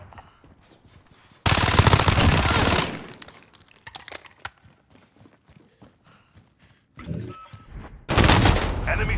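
Sentry gun firing in Call of Duty Modern Warfare, loud bursts of rapid automatic fire in two separate stretches, with quieter footsteps and movement in between.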